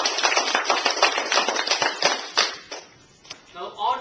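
Brief clapping from a small group at a speech club meeting, a quick patter of hands for about two and a half seconds that fades into scattered claps and a voice.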